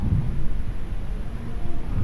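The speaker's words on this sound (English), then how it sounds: "What can we do to stop this storm?" A steady storm rumble with thunder and heavy rain or wind, a continuous low roar holding at an even, fairly loud level throughout with no voices.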